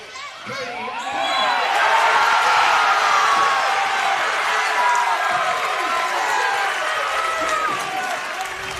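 Home crowd roaring and cheering at a women's basketball grand final between Wallan and Surfcoast after a Wallan Panthers score, a loud sustained swell of cheers and applause that builds quickly then holds, with a commentator voice underneath.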